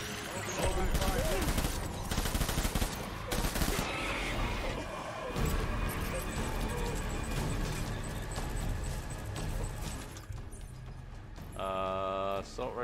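Assault rifle fire crackles in the Death Stranding video game with rapid bursts and scattered shots through most of the stretch. It is dense and loud, with game effects and voices mixed in and a brief electronic warble near the end.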